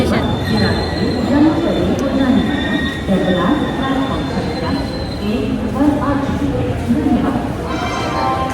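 A train rumbles steadily through Dabra railway station, its wheels and carriages producing a continuous loud clatter with rhythmic knocks throughout, while a few voices can be heard faintly in the background.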